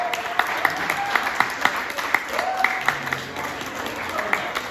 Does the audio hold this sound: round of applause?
yes